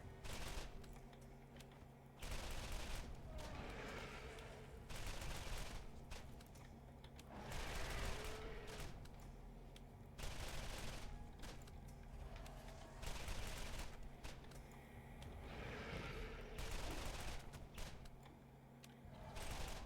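Weapons firing in the video game Borderlands, including shotguns, in repeated bursts of rapid gunfire separated by short pauses, loud and close over a steady game background.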